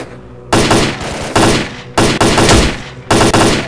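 Gunfire in the video game S.T.A.L.K.E.R.: Call of Pripyat: four loud, close bursts of rapid automatic fire, each lasting about half a second to a second, separated by short gaps.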